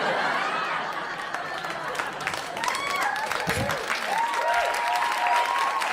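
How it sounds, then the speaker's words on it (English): Comedy club audience applauding at a stand-up show, steady clapping mixed with some laughter and chatter, with the comedian's voice speaking over the crowd. "Yeah, clap now"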